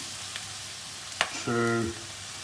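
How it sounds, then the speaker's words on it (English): Soy sauce spooned into a hot pan for Asian-style corned beef gives a faint, steady sizzle. A sharp click and a brief squeaky tone break through the hiss near the end. "I will put my soy sauce"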